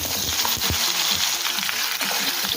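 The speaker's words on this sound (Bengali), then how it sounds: "ফোড়ন ভাজা হয়ে গিয়েছে, এখন দেবো লম্বা করে কেটে রাখা আলু" Potato strips dropped into hot oil already crackling with whole cumin and a dried chili, giving a steady close sizzle and spatter with a few sharp pops as the pieces hit the pan.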